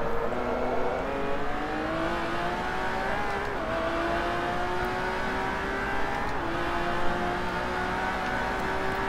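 A GT1 race car engine in the video game Forza Motorsport 3 drones continuously at high revs, its pitch climbing through gears with brief dips at shifts, loud and steady throughout.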